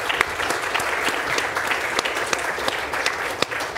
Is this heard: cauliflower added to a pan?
no